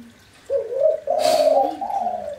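A spotted dove (tekukur) gives a soft cooing call, a few close, hollow, drawn-out notes rising in sequence and heard clearly on their own.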